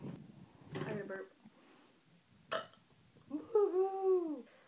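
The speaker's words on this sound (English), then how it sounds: "I had a burp." A person lets out a short, throaty burp, close and fairly loud, surrounded by brief bursts of voices and laughter.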